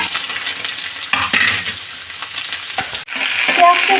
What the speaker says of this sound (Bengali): পেঁয়াজটা একটু আমি ভাজা ভাজা করে নেবো